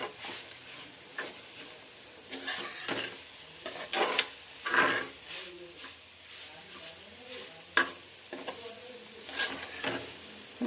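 Carrot thoran sautéing and being stirred in a pan, a soft steady sizzle with repeated scraping strokes of the spoon throughout, fairly close, no talking.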